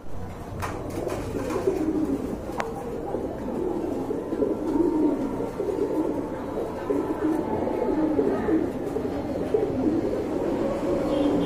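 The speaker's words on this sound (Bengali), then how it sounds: "এখানে কিন্তু আর এক জোড়া রাজগোল্লা কবুতর আছে।" Rajgolla pigeons, a pair among many birds at a pigeon market, coo in a steady, overlapping murmur close by that continues throughout, with a few faint clicks and no talking.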